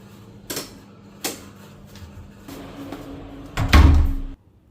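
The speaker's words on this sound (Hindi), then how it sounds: "फैन ऑन करके दरवाजा बंद" Household door being shut in a home during a rainy day, with a fan running: a few light knocks and clicks, then a louder heavy thud of the door closing near the end over a steady fan hum.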